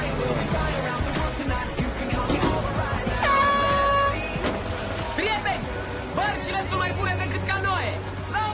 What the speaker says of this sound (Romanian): Claxonează la ei! Le place!